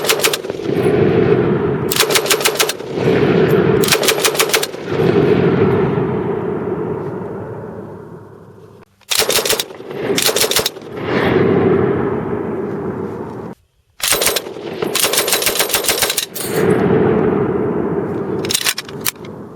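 A Japanese Type 92 heavy machine gun fires loud, close bursts of steady, slow-paced shots, with several pauses between strings of fire and echoing reports trailing off after each burst.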